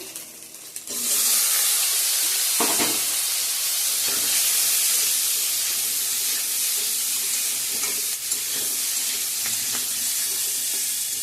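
Taro pieces frying in a pan with cumin seeds, garlic, bay leaf and ginger, giving a loud steady sizzle that rises after the first second and holds throughout, with occasional stirring scrapes and no talking.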